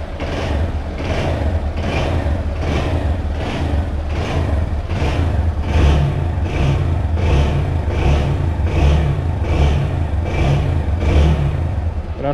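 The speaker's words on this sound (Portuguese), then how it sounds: "A moto ficou mais calada, velho." A Honda Bros motorcycle engine idling steadily after an oil change, a close, continuous mid-pitched running note with an even pulsing rhythm that holds for over twelve seconds with no talk.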